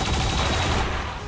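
Automated turrets in XCOM 2 fire a dense, continuous burst of rapid gunfire, close and loud, filling the whole moment alone before thinning slightly at the end.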